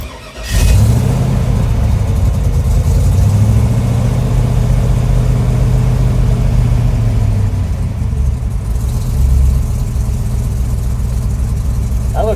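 An LS V8 engine run by a Holley Terminator X ECU cranks, catches and settles into a loud steady idle close by, with slight rise and fall in speed over several seconds.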